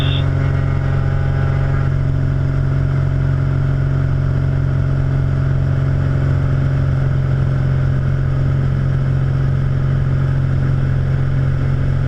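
The engine of a Piper Arrow II light aircraft runs at full power for a short-field takeoff as a loud, steady drone with a strong low hum. A faint higher tone drops away early, and no one speaks.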